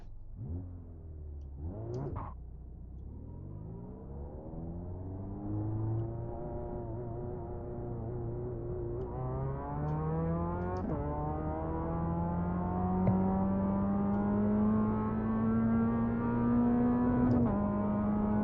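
A Mazda MX-5 Cup car's engine revs and climbs through the gears as it drives at Oulton Park in iRacing, the steady drone rising in pitch with brief shift dips, close and continuous throughout.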